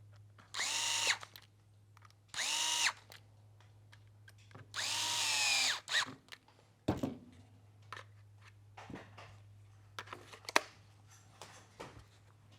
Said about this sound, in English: Then simply put the housing back on top and reinstall the screws.